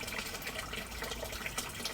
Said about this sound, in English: So now the third gutter is filling up,